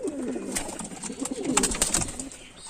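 Pigeons cooing inside a loft, soft throaty coos overlapping in a close, busy murmur with light wing and perch noises.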